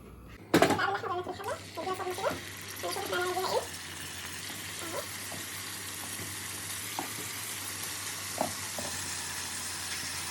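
Washed, cubed meat dropped into hot oil in a pot bursts into a sudden loud sizzle while someone talks over it, then settles into a steadier, quieter frying hiss with occasional pops.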